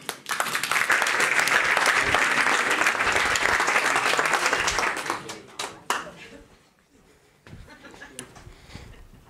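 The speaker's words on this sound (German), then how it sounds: "Begrüßen Sie nun mit einem tosenden Applaus" Audience applause at a magic award show, loud and dense for about five seconds, then thinning into scattered claps and a quiet murmur.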